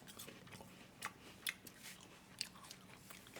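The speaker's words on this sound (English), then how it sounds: "Really munchy. Really crunchy. I could keep on eating this apple." Someone bites into a crisp apple and chews it, giving a few sharp, close crunches followed by quieter wet munching, with no talk.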